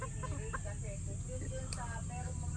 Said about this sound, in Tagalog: Kaninong manok yan sa'yo?